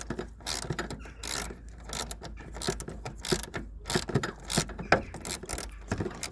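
A ratchet wrench with a 10 mm socket tightens bolts during a car oil and oil filter service, giving loud, close bursts of rapid clicking in uneven spurts, with no speech.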